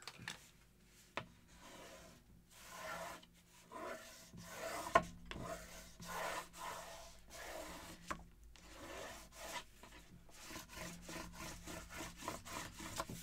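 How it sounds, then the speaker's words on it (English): Bone folder burnishing paper onto a journal cover, a repeated dry rubbing and scraping that comes in close, steady strokes with brief pauses between them. "I'm going to burnish that on with my bone folder"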